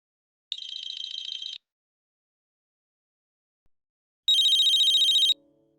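A telephone ringtone sounds in two separate bursts of rapid, high electronic trilling, the second louder, each lasting about a second, with silence between them.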